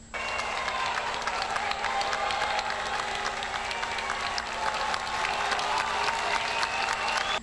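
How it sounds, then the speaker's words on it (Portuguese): A large crowd greets a governor at a podium with dense, sustained applause, steady and even throughout, with a faint murmur of voices underneath. "o governador Tarcísio foi vaiado por alguns dos presentes. Outros bateram palmas."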